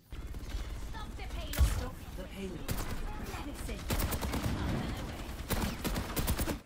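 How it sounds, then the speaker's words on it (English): Repeated weapon fire in the hero shooter Overwatch aimed at the robot hero Orisa, quick clustered shots over busy game mechanics and ambience, fairly quiet in the mix. "you're shooting at Orisa"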